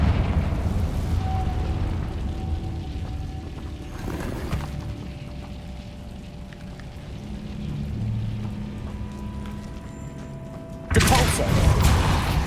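A Confringo blasting spell from Hogwarts Legacy erupting in a sudden loud burst near the end, following a long stretch of rumbling, crackling combat noise.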